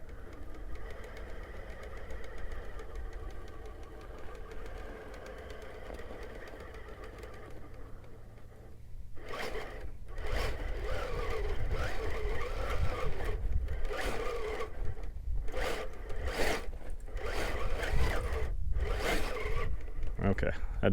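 An off-road vehicle with Toyo RT tires climbs a rock ledge under heavy throttle, its engine a loud, rough rumble that swells and surges with knocking bursts, while people talk over it.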